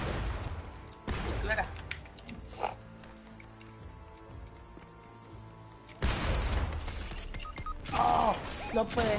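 Bursts of video game gunfire in a shooter match, with loud crackling volleys near the start and again from about six seconds on, quieter shots and game noise between, and players talking over it.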